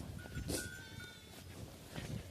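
A sheep bleats twice at moderate distance, short wavering calls over quiet outdoor background noise.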